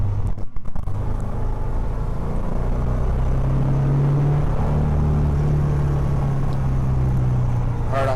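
Interior of a 1963 Alfa Romeo Giulietta T.I. driving in hail, with a steady engine drone and road rumble throughout, a few sharp knocks near the start and a rising engine note toward the end.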